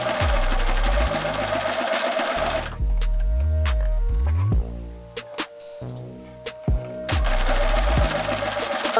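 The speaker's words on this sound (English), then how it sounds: "I'm going to sew the inside all the way around in a circle." A sewing machine runs a straight stitch around a sheer mesh top, loud rapid mechanical whirring in two long bursts with a stretch of slower, stuttering stitches and short pauses between them.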